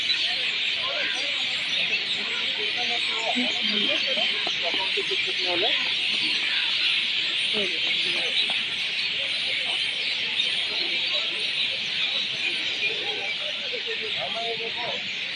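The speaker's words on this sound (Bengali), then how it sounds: "পাখিরা সব ডাকছে" Many birds call together outdoors near a museum in Delhi, a dense steady chorus of chirps and calls with fowl-like clucks, with faint voices and murmur underneath throughout.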